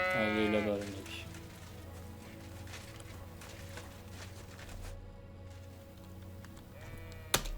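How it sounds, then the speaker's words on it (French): Sheep bleating in the video game Kingdom Come: Deliverance II, a wavering bleat at the start and another near the end over game ambience, while someone talks in French. "Mouton."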